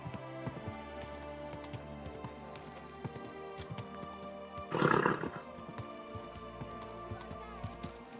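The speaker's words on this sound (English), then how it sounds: "Easy, good horse." A horse in a game scene snorts or whinnies once in a short, breathy burst midway through, set against steady droning ambience and scattered soft clicks, moderately close.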